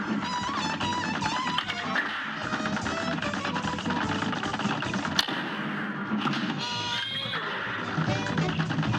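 A horse whinnying in the Cuphead video game, the neigh rising out of a dense, busy soundtrack of music and game effects that runs loud throughout.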